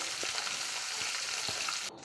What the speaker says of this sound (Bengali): তো দেখো ভাজা করি চিংড়ি মাছটা